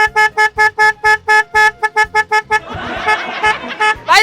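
A bicycle horn honks in a quick series of short, bright toots, close and loud, followed by a brief burst of busy rattling noise and one last toot.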